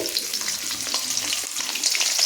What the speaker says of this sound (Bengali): তো কড়াইতে ওই তেলে আবার দিয়ে দেব কেটে রাখা ফুলকপি